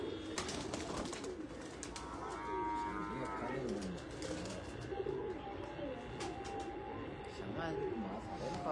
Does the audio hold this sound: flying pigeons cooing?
yes